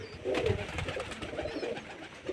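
Pigeons in a flock of about a hundred coo softly and repeatedly at close range, low throaty calls overlapping in a continuous murmur, with no talking.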